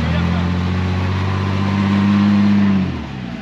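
A 2021 Jeep Wrangler Rubicon engine on an off-road trail holds a loud, steady rev that rises slightly near the end before dropping off sharply.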